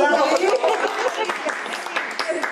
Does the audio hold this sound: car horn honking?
no